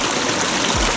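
Stream water flowing in a jungle, a steady, continuous rush and trickle filling the whole second at close range, with no voices over it.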